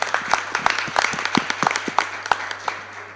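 An audience applauds at the close of a debate session on architectural lighting. The clapping is dense and steady, with sharp individual claps standing out over the crowd and continuing throughout.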